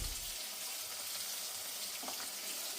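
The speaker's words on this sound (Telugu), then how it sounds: "కొంచెం నెయ్యి తాలింపు దినుసులు వేసి మనం ఉప్మాకి ఎలా తాలింపు వేస్తామో అంతే అలాగనే తాలింపు వేసాను" Tempering spices sizzling in ghee for upma, a soft continuous low-level frying hiss heard close with faint crackles near the end, no speech.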